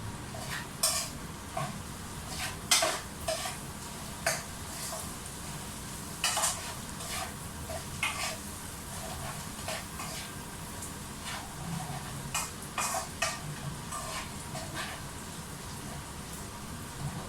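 Food fries in a pan until golden brown, with a continuous sizzle and periodic scraping stirs of a utensil against the pan, moderately close.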